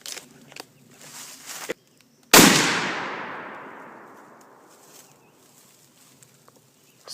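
Rifle shot fired at tannerite packed in a dishwasher, a single sharp loud crack followed by a long rolling boom that decays over several seconds, with faint rustling before it.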